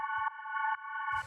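A synth choir chord, auto-panned by an inverted saw wave on quarter notes to fake sidechain pumping, holds steady with rhythmic dips in level, then a low rumbling kick thuds in near the end.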